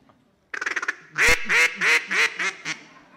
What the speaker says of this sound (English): would you do the duck call one more time before you sit down, Noah?